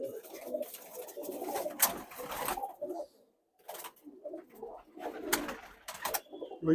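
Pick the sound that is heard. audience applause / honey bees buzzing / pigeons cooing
pigeons cooing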